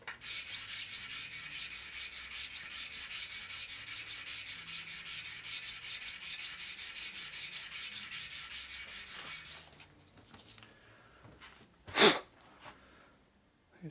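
A part for a 1947 Harley-Davidson EL Knucklehead 74ci engine case being sanded flat by hand: a close, steady run of rhythmic rasping strokes that stops after about nine seconds, followed by a few handling noises.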